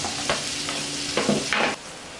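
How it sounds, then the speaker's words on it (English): Italian sausage and spaghetti squash frying in leftover oil in a frying pan: a steady close sizzle broken by a few short bursts of stirring and scraping. "I'll put this into the frying pan that'll still have a little bit of oil left over from the"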